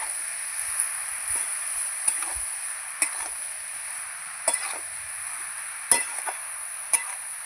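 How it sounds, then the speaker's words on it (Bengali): Cabbage, potato and spices with turmeric powder and salt are stirred in a hot pan for a Bengali fish-head dish, giving a continuous sizzle with irregular scraping clicks of a spatula against the pan and no voices. "হলুদ গুঁড়ো, লবণ, সব একসাথে নেড়ে চেড়ে মিশিয়ে নেব।"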